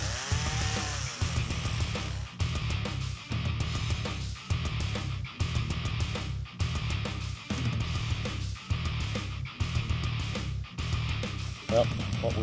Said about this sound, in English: Ralph's got the chainsaw